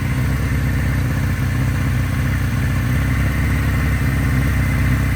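Kawasaki RS Z motorcycle engine idling slightly high, a steady close mechanical rumble with even low pulsing throughout and no speech.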